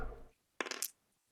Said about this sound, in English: let's take a chance, roll the dice